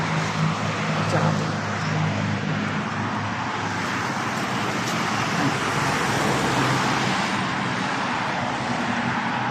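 Road traffic rolls past continuously, a loud broad roar of cars and engines close by, with swells as vehicles pass, and a voice speaking faintly underneath.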